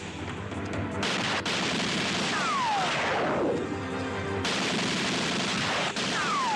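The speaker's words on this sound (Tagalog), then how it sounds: "Ano yung putok na yun?" Loud, dense gunfire in an action film, bursts and shots piling up over a roaring battle bed with descending whistling streaks, continuous throughout with no pauses.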